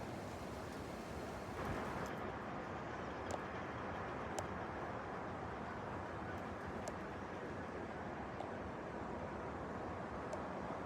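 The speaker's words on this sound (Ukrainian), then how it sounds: "тут вітер такий, що телефон з рук вириває" Strong wind roars and buffets the microphone in a continuous, loud rush of noise, with a few sharp clicks along the way.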